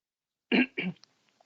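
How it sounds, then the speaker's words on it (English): Two quick, harsh coughs in close succession, near and fairly loud, followed by faint small clicks and silence. "That's why I'm coughing."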